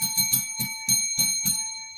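Model train locomotive sound-unit bell ringing in a steady, repeated clang, about seven strikes over two seconds, close and clear with no talk.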